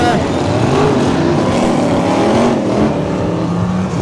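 Speedway bikes roaring off the start at Belle Vue in 2011, a loud continuous engine drone with overlapping revving pitches from several machines, steady throughout.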